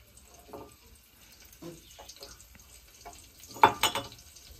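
Garlic fries in a little oil for a wild shind vegetable dish, soft intermittent sizzling bursts with a louder crackle near the end, mostly quiet between.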